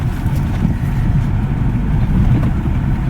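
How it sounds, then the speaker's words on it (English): Engine of an automatic Ford Fiesta at full throttle on a road test, a steady low droning roar with constant cabin rumble throughout, no talking. "you can hear the engine sound and how it performs when you press it really hard"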